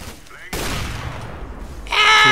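Gunfire in the video game CS:GO: a loud burst erupts midway and rings on as a dense noisy wash, with a sharper, brighter burst of shots near the end, all close and prominent.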